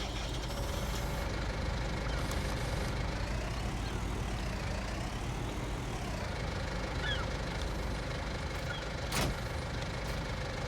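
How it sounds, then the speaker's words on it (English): A tractor engine drones steadily in Farming Simulator 19, a continuous loud mechanical rumble with a rising and falling pitch sweep partway through and a brief sharp hiss near the end. "Guess we're taking this tractor again."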